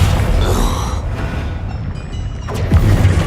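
The Confringo blasting spell in Hogwarts Legacy sets off a loud, rumbling explosion with deep booms and a sharp burst near the end, amid creaking mechanical game effects.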